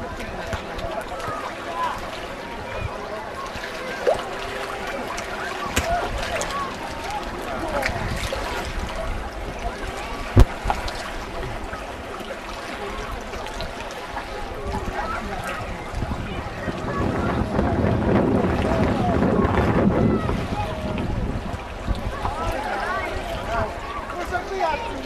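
Lake Balaton waves slapping against a boat, a steady broadband wash with wind buffeting the microphone, swelling louder toward the end, with a sharp knock midway and faint voices in the background.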